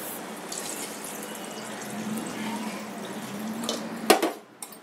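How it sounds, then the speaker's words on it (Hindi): Water runs and splashes steadily onto a pressure cooker before closing, ending in a few brief clinks and knocks. "कुकर बंद करने के पहले इसमें मैं पानी लगा रही हूँ"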